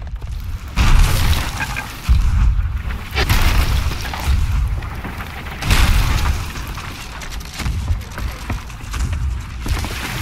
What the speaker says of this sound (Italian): Col TNT, mi sono potuto filmare col TNT.